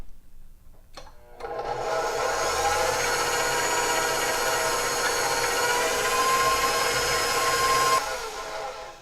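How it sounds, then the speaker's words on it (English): Electric hand mixer running at medium speed to whip egg whites for meringue in a bowl, a steady whirring buzz that starts after a couple of seconds, holds level and cuts off near the end. "I'm going to put this on medium speed until it gets frothy."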